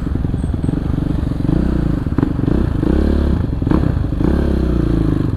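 A Kawasaki KLX 450 supermoto motorcycle engine runs loud and close, chugging with rising and falling revs and some mechanical clatter, with no talking.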